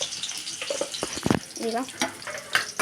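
Onions and green chillies sizzle and crackle in hot oil in a pan, with stirring scrapes and a brief spoken word over the cooking noise.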